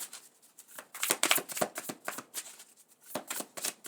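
Tarot cards shuffled by hand in a quiet room, a series of soft, quick riffling and slapping bursts in an irregular rhythm, close and fairly faint.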